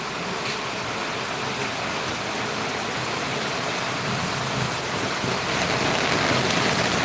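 Heavy rain falls in Valliyur as a loud, unbroken wash of hiss, steady and close throughout with no voices.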